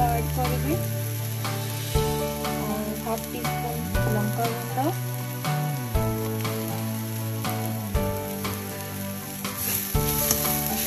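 Vegetables for a crispy baby corn Chinese fast-food dish fry steadily in a pan, a continuous close sizzle with occasional stirring scrapes and tonal music playing over it throughout.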